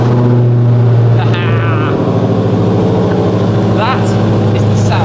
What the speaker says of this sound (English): That is the sound of deep, grumbly American muscle.